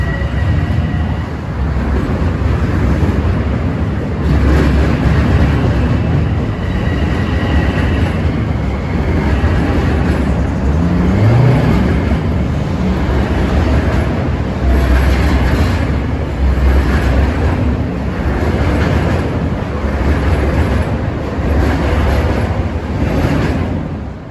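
A westbound commuter train pulls out of New Hyde Park station with a loud, continuous rumble and rolling wheel noise, no horn, sustained throughout.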